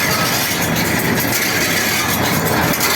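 A STAR 2000 mounted round baler driven from a tractor's PTO runs in first gear, a loud continuous mechanical clatter and drone with steady engine rumble, close by and without speech.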